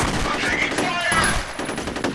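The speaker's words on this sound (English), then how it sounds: "I'm taking fire!" Rapid bursts of automatic gunfire in the first-person shooter F.E.A.R. rattle through a short combat moment, with dense, overlapping shots and faint game voices mixed in.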